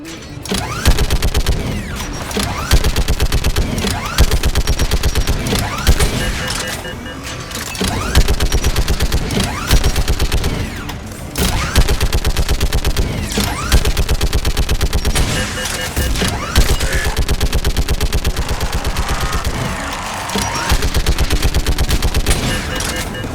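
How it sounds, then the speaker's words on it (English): Sustained rapid automatic fire from a Geth turret in Mass Effect 3 rattles loudly and nearly nonstop in long bursts, with short pauses between them and game voices heard now and then. "You should be able to operate a vacant Geth turret yourself, Shepard."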